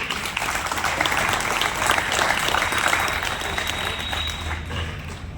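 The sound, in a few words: loud applause welcoming guests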